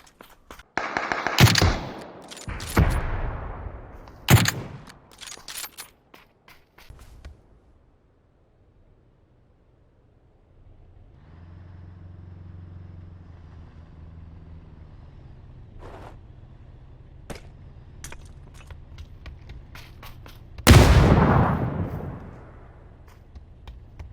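Sharp gunshots crack out in PUBG (Battlegrounds), with a few loud isolated shots early on, a quiet stretch with a low engine-like hum, then one heavy sniper-like blast near the end.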